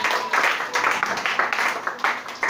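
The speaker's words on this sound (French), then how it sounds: "Acclamez Jésus-Christ pour ça" A church congregation applauding during a worship service, with loud clapping that swells in repeated rhythmic bursts and carries on without a break.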